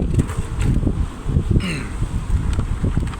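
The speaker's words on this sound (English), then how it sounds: "It's very windy today" Steady wind buffets outdoors, gusty rumbling noise across the whole stretch with a faint rustle and a brief high bird-like chirp.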